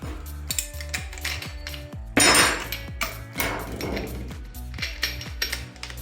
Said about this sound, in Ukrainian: Відкрутимо круг.